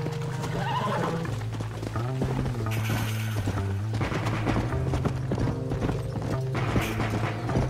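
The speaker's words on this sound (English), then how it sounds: "All you've done is get on the back of this horse" Horse hooves clip-clop in the Western video game Red Dead Redemption, with rhythmic hoofbeats and a whinny under a steady music score.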